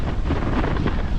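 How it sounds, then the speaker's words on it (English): Blustery headwind roars across a microphone while cycling through open country, a dense, steady buffeting rush with no other sounds. "Oh, wind. We've got a headwind now."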